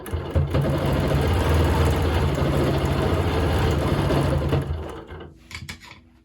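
A sewing machine running steadily while free motion quilting loops on a pillow, a fast continuous mechanical hum and rattle of stitches that holds for several seconds, then winds down and stops.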